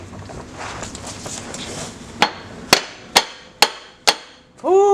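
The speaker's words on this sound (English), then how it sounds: "So now might be a little hard to hammer out right there that axle," Hammer blows drive out the axle shaft on a 1996–2000 EK Honda Civic, five sharp metallic strikes evenly spaced after a stretch of rustling, loud and close, then a ringing clatter at the end.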